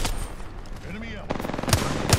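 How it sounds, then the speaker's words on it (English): Rapid automatic gunfire in Apex Legends, several loud sharp bursts and single cracks close by among game effects, with brief talking mixed in. "Opening fire on the enemy."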